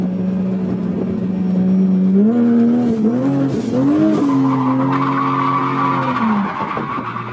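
A drifting car slides with tires skidding in a long, loud squeal that rises and wavers as the engine revs, continuous and close for several seconds before easing off.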